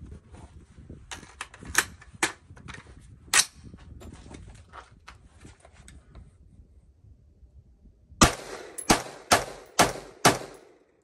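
An AR15 rifle with a 20-inch KM Tactical marksman upper fires a series of loud, sharp shots, several earlier and a tight string of five near the end, each a distinct crack with short decay.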